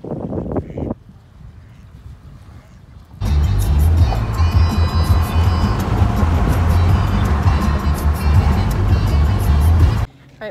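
A car drives around near Chesapeake Beach. Quiet road hum gives way to a loud, steady roar of wind and engine noise buffeting the microphone for several seconds, then cuts off abruptly.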